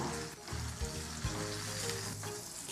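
Thick chicken breast browning in a hot pan gives a steady, close sizzle with light crackle throughout, and a few soft knocks or stirring sounds partway through.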